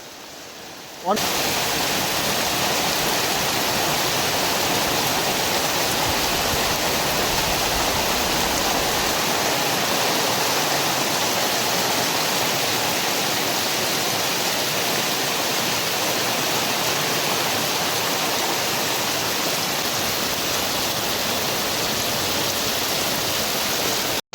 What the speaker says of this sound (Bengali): দেখেন ভাই কি পরিমাণে বৃষ্টি, এই দেখেন